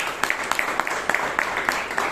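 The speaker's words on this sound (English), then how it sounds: "Give a huge round of applause," Scattered applause from a Toastmasters meeting audience in Bangalore, a few people clapping in loose rhythm at moderate distance, steady throughout.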